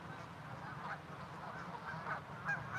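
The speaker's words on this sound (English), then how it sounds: "Let's check on the geese." Geese honking in a loose group, a steady low murmur of calls with a few sharper honks rising now and then, moderately distant.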